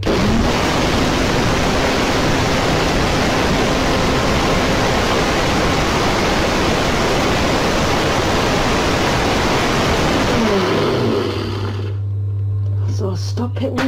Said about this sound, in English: Once again, I'm gonna put the NutriBullet.